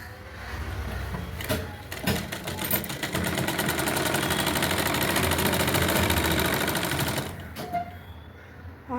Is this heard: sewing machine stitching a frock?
yes